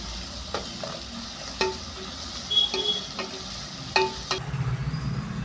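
Turmeric and fresh coriander leaves are stirred into a frying seasoning for North Karnataka puffed-rice breakfast, with a steady sizzle under several distinct scraping clinks of a spoon against the pan.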